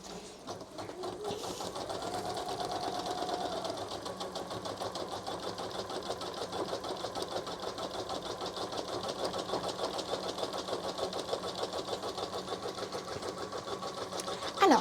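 A Janome Memory Craft 1000 embroidery machine stitches steadily with a rapid, even mechanical chatter for a long stretch, ending in a couple of sharp clicks.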